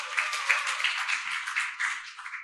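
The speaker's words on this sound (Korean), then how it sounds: "뜨거운 박수로 부탁드립니다" An audience at a community activists' conference claps in a short, even burst of applause that fades at the end.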